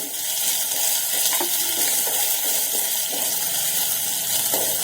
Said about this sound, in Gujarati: અત્યારે મેં 2 લીલા મરચાં અને એક ટુકડો આદુ બંને વસ્તુને એકદમ ઝીણી ખાંડીને લીધી છે, તે આપણે તેલની અંદર લઈ લઈશું.